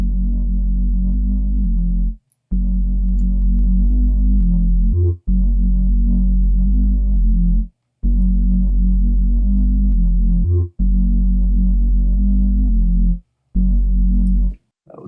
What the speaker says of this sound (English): let's add a compressor to this one just to give it a little bit of extra oomph